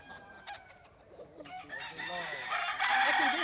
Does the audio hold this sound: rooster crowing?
yes